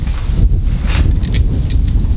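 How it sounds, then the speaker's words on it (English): Wind gusts outdoors on a breezy day, a loud, close, continuous rushing and buffeting against the microphone, with rustling and no speech. "It's a little breezy today."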